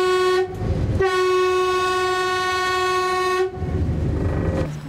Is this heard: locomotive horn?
yes